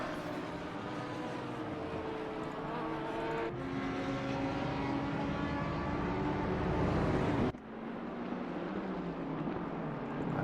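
Race cars in Assetto Corsa Competizione, an Aston Martin and a BMW leaving the pits at Kyalami, engines droning loudly with gear shifts audible as rising tones, one abrupt cut and drop partway through.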